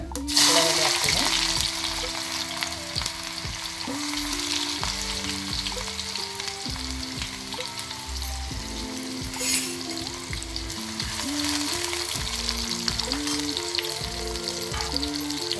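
Onion fries in a pan with curry leaves for a North Karnataka cluster bean stir-fry, a close, crackling sizzle running steadily throughout with background music playing underneath.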